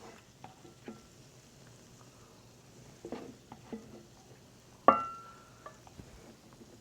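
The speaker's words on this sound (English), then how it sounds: "We've got butter and shrimp in there." Shrimp fry in butter in a pan with a soft, fairly quiet sizzle, broken by stirring and scraping sounds and one sharp utensil clank near the end.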